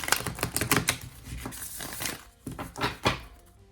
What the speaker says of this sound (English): it's definitely a deck that you just sit and shuffle all day